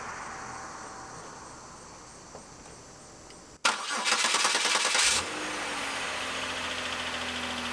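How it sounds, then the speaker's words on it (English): A Pontiac Grand Am engine cranks and catches abruptly with a loud burst, then settles into a steady idle with a faint ticking from noisy lifters, while crickets chirp in the background before the start. "it doesn't surprise me that the lifters are making a little bit of noise"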